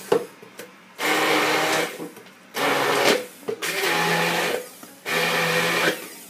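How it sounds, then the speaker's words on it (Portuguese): An immersion blender purees arugula pesto while olive oil is added, running in four loud whirring bursts of roughly a second each, separated by short pauses and handling noise, with no talking. "Não precisa ter mixer não, mas é que pra mim o mixer facilita."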